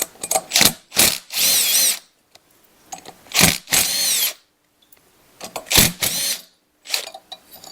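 Short bursts of a power drill or driver, apparently removing the recoil starter from a Polaris Sportsman ATV engine: several quick whirring pulls separated by pauses, close and fairly loud.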